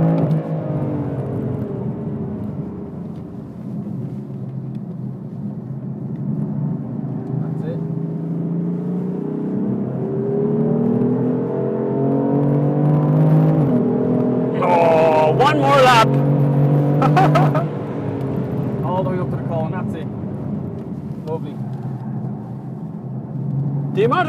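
BMW car driven fast on a race track at Mondello, heard from inside as a steady engine drone that rises in pitch and falls again, with tyre and wind noise and brief bursts of sound near the middle.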